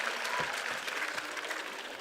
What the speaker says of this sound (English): It's a round of applause for the audience.